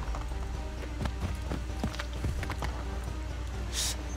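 A horse gallops in Assassin's Creed 3, its hooves clip-clopping in a quick uneven rhythm over a dense game soundscape, with a brief hiss near the end and no talk.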